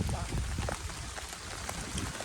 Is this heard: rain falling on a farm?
yes